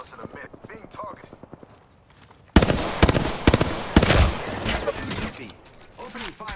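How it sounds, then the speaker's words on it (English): Rapid bursts of video-game gunfire erupt suddenly after a quieter stretch of talk, loud and dense with repeated shots layered over one another, while a player keeps speaking throughout. "Opening fire on the enemy."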